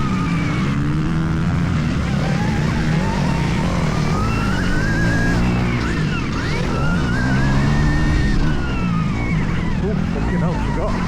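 Electric motocross bikes, including an 80 hp Stark Varg, ride on a dirt MX track, whining continuously with a close pursuing bike's drone, wind rushing, and a rider's voice over the motor noise.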